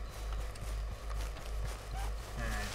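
A horse in Red Dead Redemption 2 moves along at a steady gait, its hooves clip-clopping in an even rhythm, fairly close and moderately loud over a low continuous background hum.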